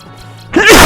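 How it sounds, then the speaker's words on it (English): A single loud sneeze bursts out abruptly after a quiet moment, close to the microphone. "Oh, sorry about that. I sneezed."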